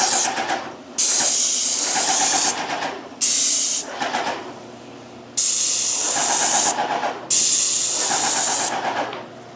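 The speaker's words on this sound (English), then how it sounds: "So as you spray, you want to go back over, and you want to go from about here down." A paint sprayer coats a surface during a house renovation in loud, close bursts of hiss, about five long sprays separated by short pauses.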